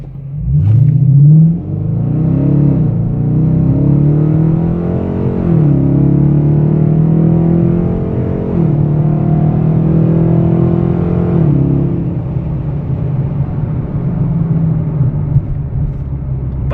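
A car engine drives and revs steadily through Miami traffic, its loud, continuous drone rising and falling in pitch over about seventeen seconds, with a sharp surge at the start.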